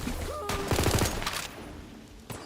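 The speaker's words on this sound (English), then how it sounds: "Oh, that's a grenade." A grenade goes off amid a burst of gunfire in the fantasy shooter Tiny Tina's Wonderlands, loud close blasts clustered in the first second before fading to quieter game ambience with a brief later thump.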